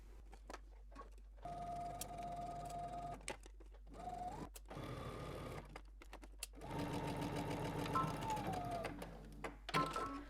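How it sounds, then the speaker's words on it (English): A home sewing machine stitches a garment pocket seam in several close bursts of steady whirring, separated by short pauses and a few clicks. "go ahead and sew your other side seam and pocket the same way"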